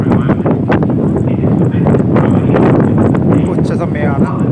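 Strong cold sea wind buffets the microphone on a ship's deck at midday in late December, a dense continuous roar with gusty rustling, heard close and loud.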